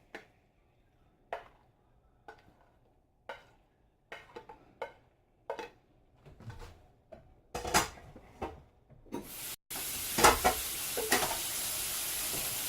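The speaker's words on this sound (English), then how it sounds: "And I'm gonna stir this up in here." Eggs with meat and potatoes being stirred in a frying pan: sharp spoon taps and scrapes against the pan come at first, then a loud, continuous sizzle takes over near the end.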